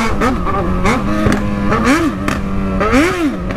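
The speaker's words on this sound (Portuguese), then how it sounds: "A motoca tá pipocando tudo." Motorcycle engine popping and crackling while riding: a loud, steady engine drone with wavering pitch that rises and falls as the throttle changes, plus sharp irregular pops layered on top.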